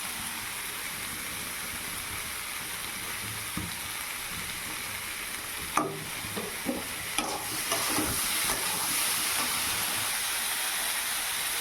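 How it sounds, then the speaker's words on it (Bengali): Kohlrabi and potato sautéing with salt, turmeric and chilli in a pan, giving a steady close sizzle and hiss with a few stirring clinks and scrapes partway through. "তো এই যে দিয়ে দিলাম লবণ, হলুদ, লঙ্কা দিয়ে ভালো করে কষিয়ে নেব।"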